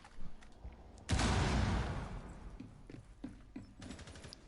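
A tactical shooter video game's gunfire: a sudden loud burst of shots or an explosion rings out and slowly fades, with faint scattered clicks and thuds around it.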